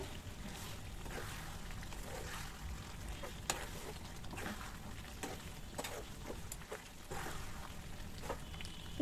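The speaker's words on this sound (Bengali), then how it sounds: "আবারও ভালো করে নেড়ে চেড়ে নিলাম" Beef bhuna frying in a pot, a continuous low sizzle with repeated stirring scrapes and soft knocks throughout, heard close and without talk.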